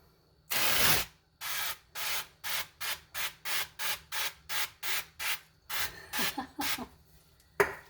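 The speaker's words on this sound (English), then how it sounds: "We are going to take this canola oil and spray the heck out of the pork chops." An aerosol can of canola oil hisses in a long burst onto pork chops, then in about a dozen short, evenly spaced puffs, close by.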